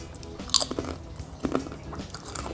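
Someone bites and chews crunchy, strongly seasoned Ryan Snack banana chips, giving close, crisp cracks followed by softer chewing crunches in an irregular rhythm, with no talk.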